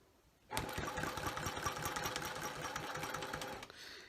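A sewing machine runs steadily for about three seconds while basting a quilt mounted on a Cutie quilting frame, starting abruptly and keeping a dense, even mechanical whir before easing off near the end.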